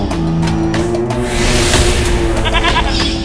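Goat bleating, set in a fantasy drama scene where a child has been turned into a goat; the bleats sound over a steady busy background, with wavering calls near the end.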